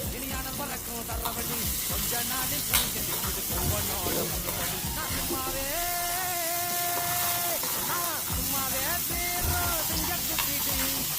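Drumstick leaves with salt sautéing in a pan in a village kitchen, a continuous sizzle with stirring scrapes, while faint background voices and tonal sounds run underneath.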